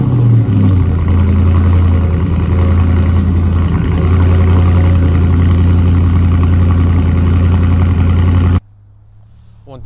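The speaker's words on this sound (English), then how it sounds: "the 4-inch active exhaust, which sound absolutely beautiful." A 2020 Dodge Charger R/T Scat Pack Widebody's engine rumbling through its 4-inch active exhaust, a loud, deep, steady idle-like drone close by, cutting off abruptly near the end.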